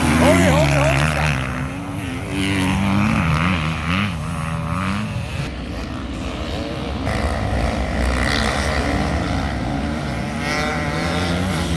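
A 1989 Honda CR500R two-stroke dirt bike races around the Southwick motocross track, its engine droning loudly and continuously with shifting revs, while people talk over the engine noise.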